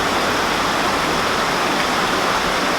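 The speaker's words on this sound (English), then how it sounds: "we're just going to fill that up with water" Water poured steadily into a cooking pot beside a twig stove at a bushcraft camp, a loud continuous splashing rush heard close up with no talking.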